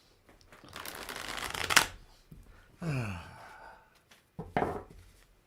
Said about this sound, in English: Oh, my deck of cards.